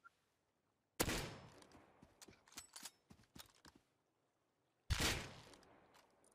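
Bursts of gunfire in the Rust video game: a loud volley at the start, then a run of scattered sharp shots, and after a pause another heavy burst. Faint chatter sounds once between the volleys.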